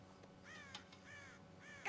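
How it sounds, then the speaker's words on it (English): Crows cawing in a Western frontier game setting, raiding a corn silo: several hoarse, drawn-out caws in a row, fairly clear over a faint ambient hum, with no talking. "God damn crows!"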